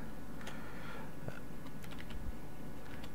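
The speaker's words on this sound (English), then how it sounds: "I want to type something that I want to remember." Scattered keystrokes on a computer keyboard while typing a short word into Notepad, a few light clicks spread over a steady background hum.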